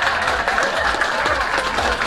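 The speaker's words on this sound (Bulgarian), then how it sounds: "Аплодисменти за отбор Бахор." A quiz-show audience applauds team Bahor from Burgas: continuous, fairly loud clapping from a crowd, steady for the whole stretch with no speech over it.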